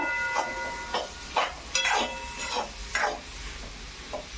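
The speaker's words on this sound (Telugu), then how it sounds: "మనమైతే క్యారెట్ అలాగే క్యాబేజీ వేస్తాం కదా, ఇంకా మనమైతే ఇలా కలుపుకోవాలన్నమాట" Carrot and cabbage tossed in sizzling oil, stirred in several uneven scraping strokes amid a steady low fry hiss, close and fairly quiet, with no talk.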